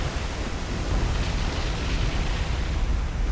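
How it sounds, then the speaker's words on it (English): A ship's magazine explodes in the naval warfare game War on the Sea, a sustained, dense roaring rumble that fills the whole clip at steady loudness with no voices. "this guy got the magazine explosion"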